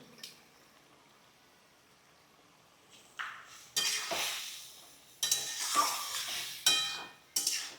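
Hilsa fish head dropped into hot oil in a pan, a quiet stretch followed by sudden loud sizzling bursts that swell and fade repeatedly, with stirring and utensil clinks.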